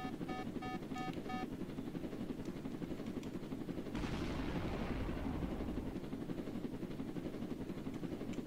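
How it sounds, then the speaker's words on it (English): A steady whirring helicopter drone in the Roblox game Jailbreak, with a brief burst of beeping tones at the start and a louder rush of noise midway. "My helicopter."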